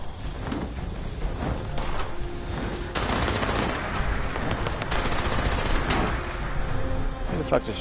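Rapid automatic gunfire from several players shooting at a Scorch Beast in Fallout 76, rattling in sustained loud bursts that thicken midway, with faint talk mixed in.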